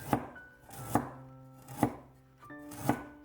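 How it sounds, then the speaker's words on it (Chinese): A knife slices half a piece of fresh ginger into thin slices on a board: four sharp, close chops evenly spaced about a second apart, with no talk. "给它切成薄片。"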